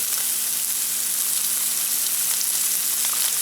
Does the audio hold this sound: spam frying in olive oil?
yes